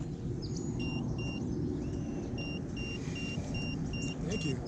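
Short electronic beeps from a handheld ghost-hunting device at Founders Memorial Park in Whittier, California, sounding as several evenly spaced high tones over a steady rumble of nearby road traffic.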